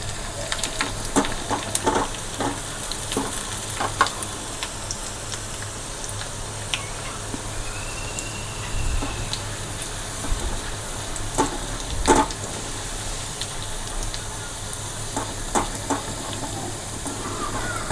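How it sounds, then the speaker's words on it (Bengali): Chopped garlic fries in a hot pan for a restaurant-style mixed vegetable dish, giving a steady close sizzle with scattered crackles and pops throughout. "তাই রসুনটা একটুখানি ভেজে নিই"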